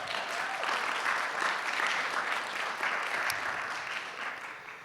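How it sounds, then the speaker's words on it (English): A forum audience at Whitworth University applauds warmly, a full, steady wash of many clapping hands that holds evenly and then starts to taper off at the close. "Can we give them a round of applause?"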